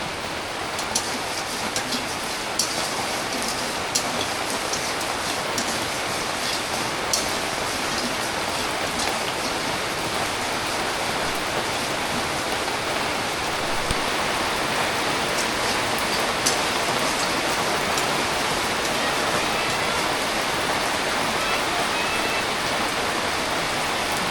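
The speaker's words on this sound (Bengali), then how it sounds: "টিপ টিপ বৃষ্টি শুরু হইলো" Steady rain falls continuously, a dense even hiss of drops on surfaces with occasional louder patters, no voices.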